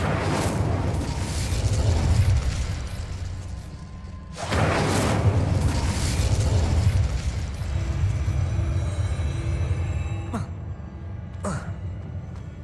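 Incendio fire spell bursts in the Hogwarts Legacy video game, two loud whooshing blasts of flame several seconds apart followed by a quieter stretch with a couple of sharp cracks.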